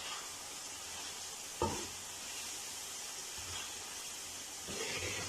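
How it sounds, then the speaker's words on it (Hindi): Eggs frying in a masala gravy whose oil has separated from the spices, a quiet continuous sizzle with a couple of soft knocks from a spoon against the pan. "कुछ देर के ये मसाले के साथ अंडों को भुनेंगे"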